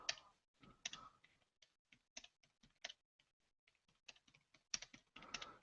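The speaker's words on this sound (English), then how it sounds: "Bear me just 1 second while I'm typing this." Someone types on a computer keyboard: quiet, close key clicks in irregular bursts with short pauses, tapping at an unhurried pace.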